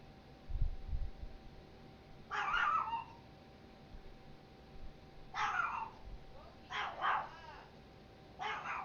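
A dog barks in several short bursts, some doubled, spaced out over a faint steady background hum, with no talk over it.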